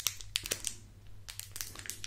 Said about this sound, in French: je n'aime pas ouvrir mes boosters avec des ciseaux. Du coup, je vais les ouvrir à la main.